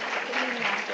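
An audience gives a warm round of applause after a lecture on the Civil and Commercial Code, a brief, dense burst of clapping heard on its own.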